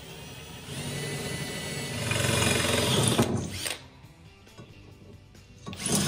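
Power drill boring a hole through PVC pipe: a steady, loud whirring grind that rises in intensity, cuts off abruptly near the end, then starts again briefly.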